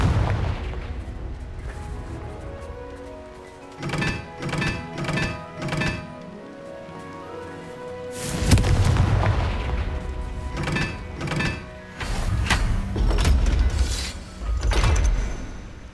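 Confringo spell explosions in the Hogwarts Legacy video game: a quick series of muffled booms, then two heavy, loud blasts with rumbling tails, alone without talk.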